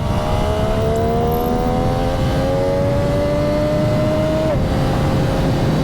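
A 2022 MV Agusta F3 RR motorcycle engine revs loudly and climbs high through the gears, its pitch rising steadily before a sharp quick-shifter cut and a drop in pitch, heard up close from the rider's position.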